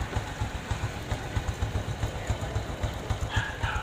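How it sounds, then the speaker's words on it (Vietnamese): A 2007 Honda Future Neo motorcycle in original stock condition idles close by, its engine putting out a steady low, rhythmic thump that runs alone throughout. "Nghe tiếng máy rõ nhất là phải nằm ở đây nha anh em."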